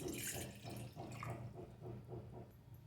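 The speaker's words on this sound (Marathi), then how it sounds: "गोड चटणी बनवण्यासाठी मी आता इथे एक ग्लास पाणी घेतलेलं आहे" Water is poured into a glass to make sweet tamarind chutney, a soft, faint trickle with gentle pulsing splashes that lasts a few seconds, close but quiet.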